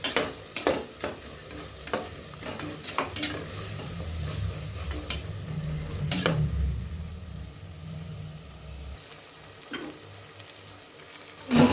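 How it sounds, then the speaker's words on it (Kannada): A spoon scrapes and stirs a sizzling masala mixture in a pan for egg biryani, with steady frying hiss and irregular sharp scraping clicks, close and moderately quiet. "ನೋಡಿ, ನಾನು ಈ ಥರ ಮಿಕ್ಸ್ ಮಾಡ್ತಾಯಿದ್ದೀನಿ ಚೆನ್ನಾಗಿ."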